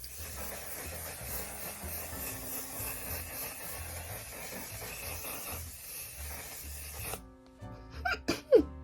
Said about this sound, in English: it says it's mattifying waterproof setting spray. So I'm just gonna spray this all over my face.